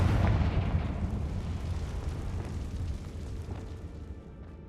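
A Confringo fire spell explodes in the wizarding video game Hogwarts Legacy: a heavy, rumbling boom that starts loud and decays slowly over several seconds, with no talk over it.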